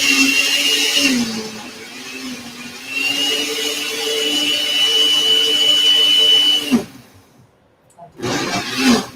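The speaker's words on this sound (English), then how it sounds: "Sorry about the blender noise, y'all." A blender whirs loudly and steadily, its pitch shifting as it runs, then cuts off briefly before starting again near the end.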